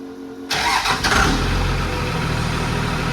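A rebuilt second-generation Cummins diesel engine starts after a brief moment of quiet, catches abruptly with a loud rough rush and settles into a steady, heavy, clattering idle close by.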